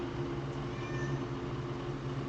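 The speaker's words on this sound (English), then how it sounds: "Meow." A cat meows softly over a steady low hum, the call faint and drawn out against the background.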